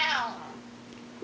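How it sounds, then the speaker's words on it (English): A cat lets out one clear, falling meow right at the start, close and fairly loud, before the sound drops to a quiet room hum with a low steady tone underneath. "What are the cats saying?"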